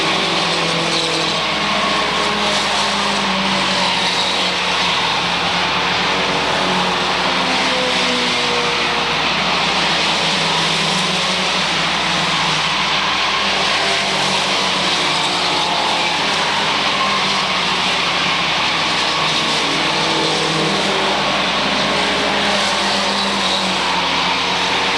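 Mini stock race cars roar around the Waterford Speedbowl oval in a feature race, a dense, unbroken wall of engine noise with no break across the whole stretch.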